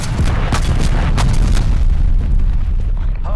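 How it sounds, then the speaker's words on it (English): Loud, dense rumble of artillery strike explosions in Call of Duty: Black Ops Cold War, a continuous barrage of deep booms with sharp bursts layered over it and no pauses. "Marking artillery targets."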